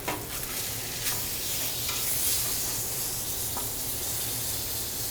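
Fish sizzles steadily in a hot pan right after being flipped with a fish spatula, a continuous bright frying hiss with a few soft scrapes, close and fairly loud with no talking.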